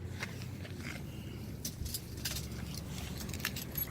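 Keys jangling in the ignition of a 1981 Chevrolet C10 custom streetrod, light metallic clinks scattered over a low steady background rumble, close and moderately faint.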